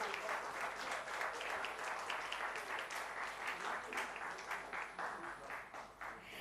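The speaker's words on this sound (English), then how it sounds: "A loud applause, ladies and gentlemen." Audience applause at a Rotary Club of Mumbai seminar on sustainability, a steady crowd of many hands clapping together for several seconds, fairly distant and filling the room, with no talk over it.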